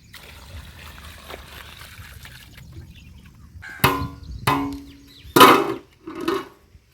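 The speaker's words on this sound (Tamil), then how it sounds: "தண்ணி பார்த்தீங்கன்னா இந்த பழம் எல்லாம் மூங்குற அளவுக்கு ஊற்றணும்" Water poured over palm fruit in a pot while making palm fruit jelly, heard as several short splashy pours in quick bursts after a quiet start, close and fairly loud.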